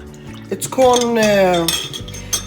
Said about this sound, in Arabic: هلا بنجيب الاسبريسو تبعنا ونحطها على المية السخنة اللي قلت لكم. هلا بنحركها